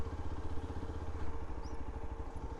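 A motorcycle engine idles steadily at a low, even throb, fairly faint and with no voices over it, outdoors near a crowded hillside temple at Kainchi Dham.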